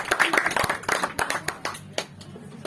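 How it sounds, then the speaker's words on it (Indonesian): A small group at a church men's fellowship anniversary claps for a newly named treasurer. The clapping is uneven and fairly close, with a few voices mixed in, and it thins to scattered claps by the end. "Kita berikan tepuk tangan."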